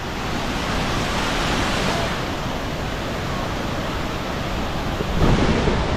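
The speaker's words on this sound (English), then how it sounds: "That's what you call a waterfall." Floodwater pours over the Khlong Lan waterfall in a loud, constant, close roar of rushing water, with a brief swell near the end.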